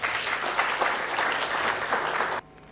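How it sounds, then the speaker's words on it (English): A crowd applauds at a book launch, loud and even, then the clapping cuts off abruptly just before the end. "Can we have a loud round of applause?"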